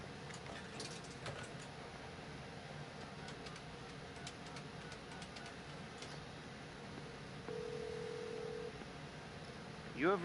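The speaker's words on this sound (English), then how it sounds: "I'm at the payphone, trying to call home." A payphone places a call in the video game Marvel's Avengers: a quiet in-game ambience with scattered clicks, then one sustained ringback tone lasting about a second.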